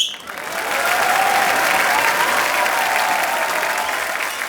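A television studio audience at a comedy show breaks into sustained, loud applause with whistles greeting a dance entry, a dense, steady roar of clapping that swells quickly and holds for several seconds.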